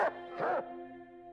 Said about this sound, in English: Sure, let's follow the dog.